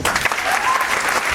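Audience applause at a motivational team-building talk, a short burst of dense clapping filling the whole moment, steady and close with no gaps.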